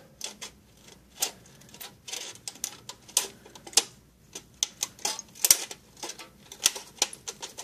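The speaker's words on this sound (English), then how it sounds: "I probably didn't choose the best pair of scissors to do this with" Sharp, irregular snips and clicks of scissors cutting through thin aluminum sheet, close up and crisp, with brief pauses between cuts.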